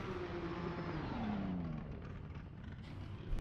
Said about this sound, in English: Really good chase driving there from Mr. Jack Powell.